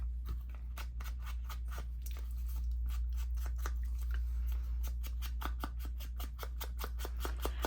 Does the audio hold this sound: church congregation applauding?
no